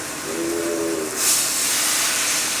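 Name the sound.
salmon searing skin side down in hot pan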